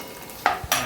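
Egg curry masala sizzles in a pan on a home stove, with two quick bursts of scraping and stirring over a faint fry.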